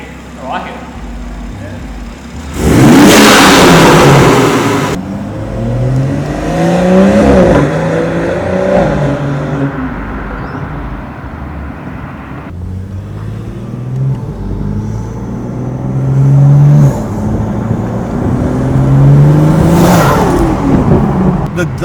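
A stage 3 BMW 440i B58 fitted with a Pure 800 turbo revs repeatedly, with loud, close swells of engine noise climbing and dropping, turbo whoosh between blips, and people talking over it.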